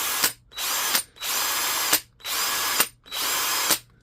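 A brushed Milwaukee cordless drill whirs in short, repeated bursts, revving up and stopping about five times with brief silences and clicks between.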